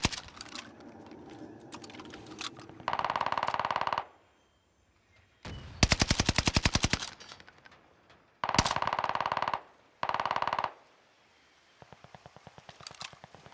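Video game gunfire rattles in loud rapid automatic bursts separated by brief pauses, with a sparser clicking burst of shots near the end and no talking.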